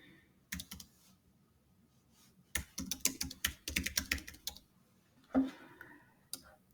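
Keys clatter on a computer keyboard as text is typed, in irregular bursts of close, crisp clicks with short pauses between runs, and no talking.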